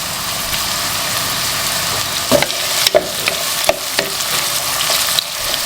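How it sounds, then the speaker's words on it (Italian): Chopped vegetables sautéing in freshly pressed Tuscan extra-virgin olive oil, a continuous close sizzle broken by several sharp scraping and stirring knocks. "Aggiungo il trito di verdure e le lascio imbiondire"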